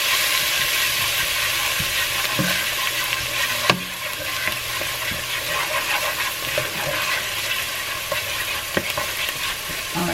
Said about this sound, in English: I'm going to add a little bit of garlic to this, garlic. And I'm going to let that saute for just a minute